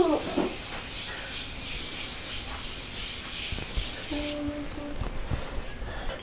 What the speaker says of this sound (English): we're gonna go ahead and use the Morphe setting spray and set it before we highlight